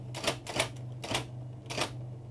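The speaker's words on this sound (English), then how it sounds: "Bolding text on an electronic daisy wheel typewriter is relatively easy." An electronic daisy wheel typewriter prints characters in four sharp, spaced clacking bursts over a faint steady motor hum, close and with no talk.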